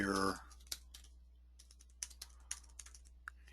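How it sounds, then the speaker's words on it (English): Typing on a computer keyboard, a sparse run of light separate clicks at an uneven pace, close and fairly quiet, following a short burst of loud sound at the start. "you can see that my typing is not that great"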